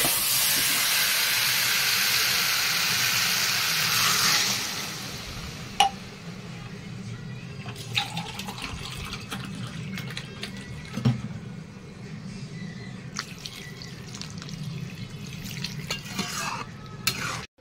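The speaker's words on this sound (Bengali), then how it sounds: "মশলাটা দিয়ে কাঁচা গন্ধ ছেড়ে গেছে, এখন আমি জল দিয়ে দেবো।" Water poured into hot spice paste in a pan makes a loud burst of steaming sizzle that then settles into a quieter simmering bubble, broken by occasional stirring clicks and utensil knocks against the pot.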